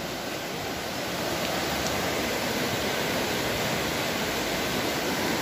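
The flooded Tahuilapa river, overflowing its banks after very heavy rain, roars as a steady broadband rush of water, loud and constant throughout with no voices.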